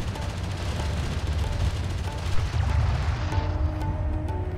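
Sustained weapons fire in the real-time strategy game Homeworld: Deserts of Kharak, a dense rumbling barrage of distant booms and shots forming a continuous battle roar with no voices.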